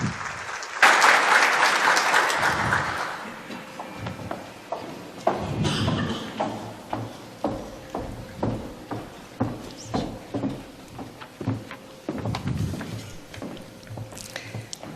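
An audience at an award ceremony breaks into sustained applause, loud and broad at first, then settling into a steady rhythmic clapping that continues to the end.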